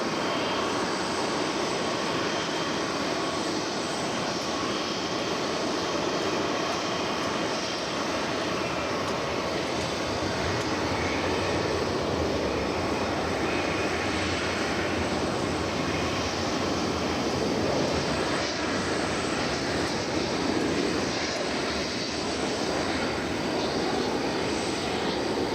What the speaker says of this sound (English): But this is 767. Let's check it out. Here it comes now.